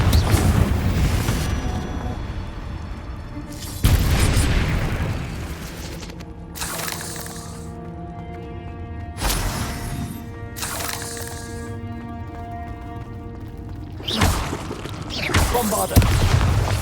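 Bombarda and Confringo spell explosions in Hogwarts Legacy, heavy booming blasts every few seconds with rumbling decays between them, with voices shouting alongside.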